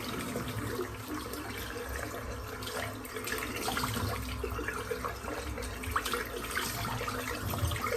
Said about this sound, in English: I'm just going to rinse the brush out